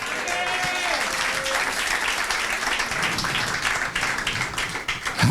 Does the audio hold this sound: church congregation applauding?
yes